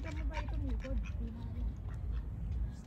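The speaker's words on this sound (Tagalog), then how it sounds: "Yung mga pato ng garden namin." Ducks quacking in a home garden, a run of loud, close nasal quacks repeating over a steady low background, with people talking faintly underneath.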